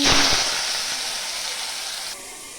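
Potatoes frying in hot oil in a pan, giving a steady, close broadband sizzle that starts loud and settles to an even hiss, with no voices.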